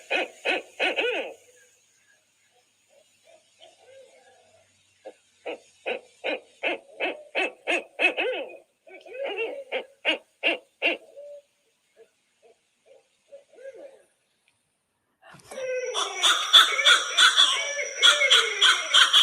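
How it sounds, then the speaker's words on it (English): A recorded barred owl hoots in bursts of rhythmic, accented calls, with a wilder, cackling chorus of hoots rising loudly at the end; no talking over it. "Okay, that's a barred owl."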